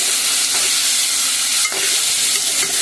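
Raw onions fry in a pan with a loud, close, continuous sizzle, broken by a few scraping stirs of a spoon against the metal.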